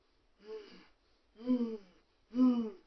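A narrator performs heavy breathing for a read-aloud story, with three ragged, wheezy breaths about a second apart. Each one is voiced and strained, and the sound is close and moderately loud.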